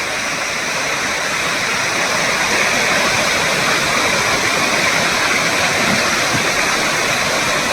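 A waterfall at Two Medicine Lake, Glacier National Park, roars in a loud, steady, unbroken rush of falling water, close by and filling the whole clip with no voices.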